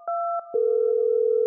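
A telephone dial tone on a call to a bus driver: a few short beeps, then a steady, clear tone held for about a second, ending in a sharp click, with no voices.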